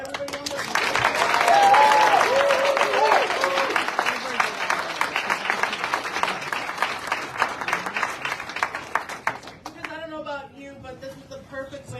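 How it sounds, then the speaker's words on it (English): A rally crowd claps in a round of applause at an outdoor community gathering, a loud, dense patter of hands over several seconds with a few cheers, tapering off as talking resumes. "let's just give a round of applause to everybody on the"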